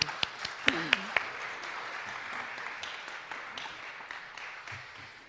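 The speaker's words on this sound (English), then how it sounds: "We could do a little clapping." A church congregation claps during a Mother's Day Sunday service, a few sharp claps at first settling into a soft, moderate patter of applause in a reverberant room.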